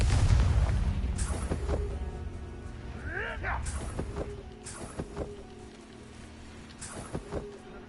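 Spell explosions from a Harry Potter–style video game, a Bombarda or Confringo blast: several sharp booming bursts spaced a second or so apart over a low rumble, with a brief whooshing sweep in the middle and voices shouting between them.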